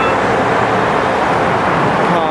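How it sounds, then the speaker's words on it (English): Heavy freeway traffic roaring steadily on a Denver street, a loud broadband wash of car and truck noise with no breaks, close and continuous. "You can hear this huge noise from the freeway."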